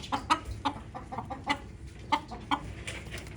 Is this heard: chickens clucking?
yes